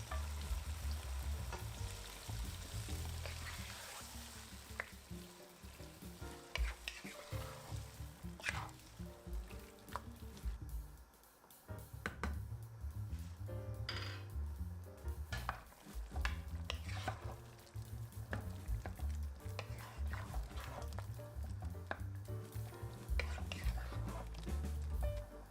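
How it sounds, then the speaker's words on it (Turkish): Tomatoes for ajvar sauce sizzle and bubble steadily in a pan on the stove while a wooden spoon scrapes and stirs at intervals, close and continuous throughout. "Tahta kaşıkla böyle arada karıştırarak gelmesi gereken kıvama kadar ocak üzerinde pişiriyorum"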